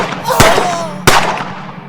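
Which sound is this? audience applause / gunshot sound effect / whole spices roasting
gunshot sound effect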